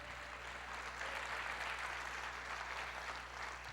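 A church congregation applauding in worship, a sustained, even wash of many hands clapping, fairly faint and distant, over a low steady hum.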